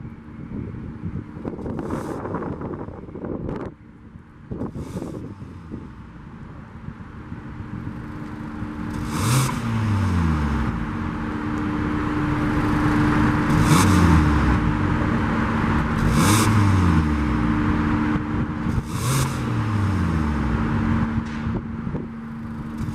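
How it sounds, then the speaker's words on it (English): A 2020 Kia Optima's engine idles steadily, then its exhaust revs up sharply about four times, each rev rising and falling away, with wind buffeting the microphone throughout. "I'm gonna just give you guys a quick sound of that exhaust so you can hear how it is."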